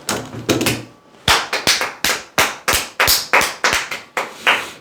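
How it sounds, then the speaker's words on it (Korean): A small group claps in a quick, rhythmic beat of about a dozen sharp, evenly spaced claps, close and distinct, after a couple of scattered claps and a brief pause. "박수 한번 치십시오"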